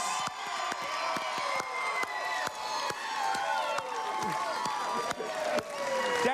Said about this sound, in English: And a huge round of applause.